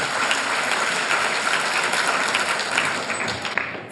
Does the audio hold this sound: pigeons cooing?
no